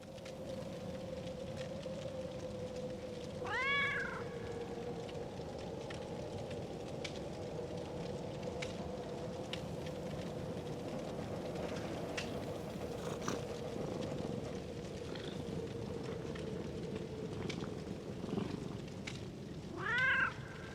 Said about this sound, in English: Jonesy the cat from the first 2 Alien movies will greet Ripley.